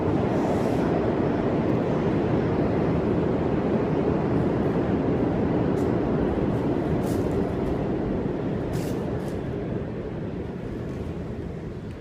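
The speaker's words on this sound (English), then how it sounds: "You can hear the train on the upper level." A continuous heavy rumble of an A or C subway train running on the upper level, heard from the abandoned lower level of the 42nd St station, steady and loud, slowly easing off toward the end.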